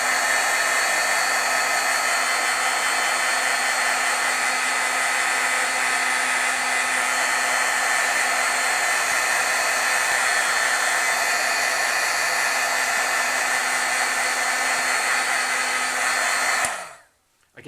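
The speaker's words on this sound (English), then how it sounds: "let's heat set this white now a little bit." A heat tool blows steadily while heat-setting white ink on stamped artwork, giving a loud, constant whirring hum that runs unbroken for most of the time and then cuts off abruptly near the end.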